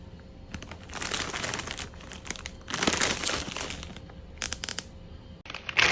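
A bag of Doritos guacamole chips crinkles loudly close by in several bursts of crisp plastic rustling, separated by brief pauses, with no speech.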